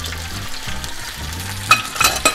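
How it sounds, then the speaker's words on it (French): A thick rump steak fries in foaming butter while a spoon bastes it, with a loud bubbling sizzle, low sputtering pops and a few sharp spoon clinks near the end. "On pense à bien arroser la viande pendant la cuisson avec le beurre qui est au fond."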